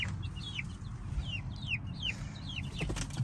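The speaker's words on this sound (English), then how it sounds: "These little chickies. Give them some food, some little strawberries and spinach cut up." Small chicks peep in quick, high, falling chirps while being fed cut-up strawberries and spinach, with a steady low rumble underneath.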